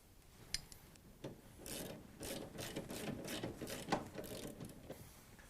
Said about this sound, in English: We'll go ahead and tighten this down.